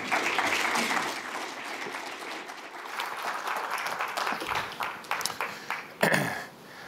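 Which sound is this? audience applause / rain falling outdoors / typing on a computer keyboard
audience applause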